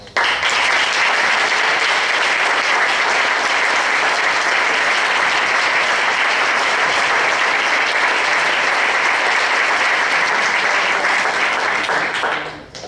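An audience bursts into sustained, dense applause after a lecture, loud and even for about twelve seconds before tapering off, with no talk over it.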